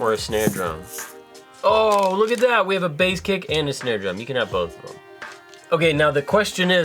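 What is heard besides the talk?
None of the usual background noises is heard.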